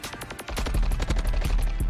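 Rapid automatic AR rifle fire in Call of Duty MW3, a quiet pause and then a steady burst of sharp, evenly spaced shots close up and loud.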